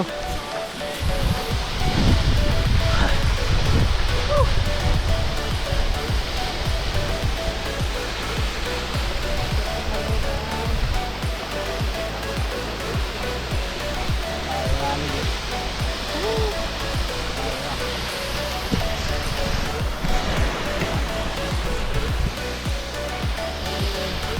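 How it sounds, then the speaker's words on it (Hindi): A waterfall in India's Northeast roars steadily and densely close by throughout, with heavier low rumbles early on. "इतना अच्छा वाटरफॉल है, लेकिन खतरनाक भी है"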